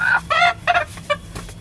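A red desi country rooster clucks and calls in several sharp, close bursts separated by short pauses, with no voices.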